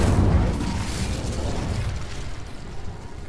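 A fiery Incendio spell bursts in a magic-themed game with a loud whooshing blast at the start, then settles into a rumbling, crackling roar that slowly fades.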